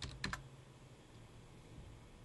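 Brief typing on a computer keyboard during 3D modelling work: a quick cluster of soft, close key clicks at the start, then quiet room tone.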